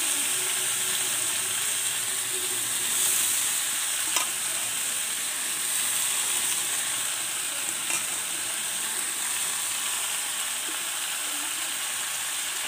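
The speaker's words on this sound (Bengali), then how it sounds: "এখন এটা রেখে রেখে এভাবে সুন্দর করে কম আঁচে ভেজে নিতে হবে।" Fish, potato and eggplant fry in hot oil in a wok over low heat, giving a continuous even sizzle with a few soft clicks of stirring, and no talk.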